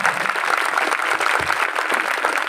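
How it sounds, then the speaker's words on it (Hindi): A church congregation claps loudly and continuously for a short burst, a close, dense crowd applause heard alone without speech. "इस बहन के लिए जोरदार तालियां बजाएं।"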